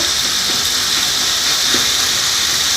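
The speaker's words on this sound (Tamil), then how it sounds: "கல்லுப்பு போட்டு நல்லா வதக்கிறோம்" Crab gravy base sautéing in a pan with rock salt, a steady loud hissing sizzle with no break, close and continuous.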